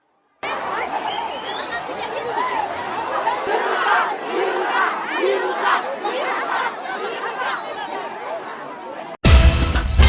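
A lively crowd cheers and chatters continuously as a presidential couple mingles among the people in Antananarivo, with excited shouts rising and falling, ending in a sudden louder burst of noise.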